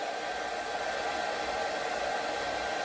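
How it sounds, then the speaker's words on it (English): A hair dryer blowing continuously while hair is dried, a steady close whooshing motor roar that stays level throughout with no talking. "I'll do that while I'm sitting here drying my hair"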